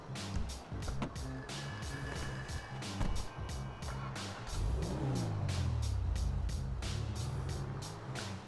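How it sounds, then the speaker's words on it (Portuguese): Declasse Moonbeam van driving in GTA 5 Online after lowrider tuning, a steady engine hum with rising revs and a sweeping pitch change midway, punctuated by repeated sharp clicks and knocks. "vamos dar uma volta com essa caranga aqui pra ver se ela é rápida"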